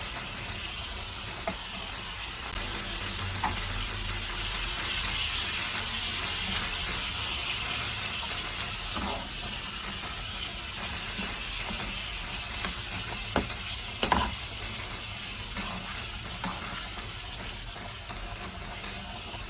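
Filipino-style corned beef sizzles steadily in a pan with tomatoes, a constant close frying hiss with faint clinks of stirring, and no voices.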